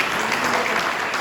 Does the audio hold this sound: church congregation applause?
yes